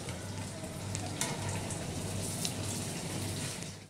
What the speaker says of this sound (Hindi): डोनट्स हमारी फ्राई हो चुकी हैं